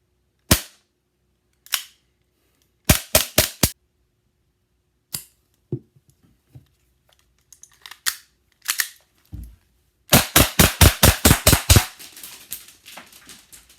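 A WE Tech Makarov airsoft pistol is cycled and dry-fired: sharp, close snapping clacks come singly and in short groups, then end in a fast, loud string of about a dozen shots.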